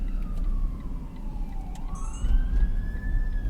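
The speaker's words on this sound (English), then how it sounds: "All right, we got an ambulance behind us. Or a firefighter" A fire truck siren wails behind a moving car on a downtown Toledo, Ohio street, its tone sweeping up and down over a steady low road and engine rumble.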